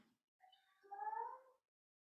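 A cat gives two faint meows, a short one and then a longer, rising and falling call, in an otherwise quiet room.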